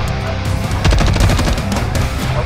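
Rapid automatic gunfire in the Call of Duty MWIII multiplayer domination mode, a loud sustained burst of close shots with a dense, rattling rhythm.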